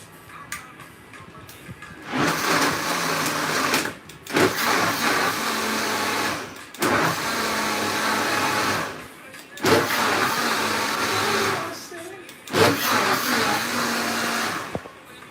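A blender whirs loudly in five separate pulses, each lasting a couple of seconds with brief quiet gaps between them.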